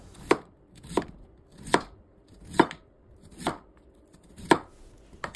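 A knife slices through peeled potatoes on a board in six sharp, evenly spaced chops about a second apart, close and clear with no talking.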